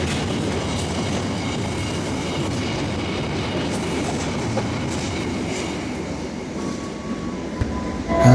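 A tanker freight train bound for Cilacap rolls past, heard as a loud, continuous rumble and clatter of wagons with a faint squeal near the end and no speech.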